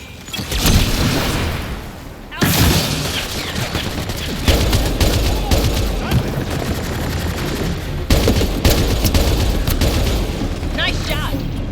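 Sci-fi gunfire and blasts in a Mass Effect Andromeda combat fight: loud, dense bursts of shots and booming impacts run almost continuously, with voices talking over the battle.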